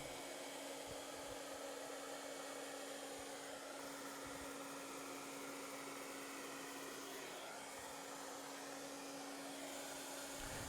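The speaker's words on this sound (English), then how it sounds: "We're using the hairdryer to fold the layers over and under" Hair dryer blowing a steady, loud whirring airflow across an epoxy resin countertop while the layers of colored resin are worked, continuous and constant with no talking.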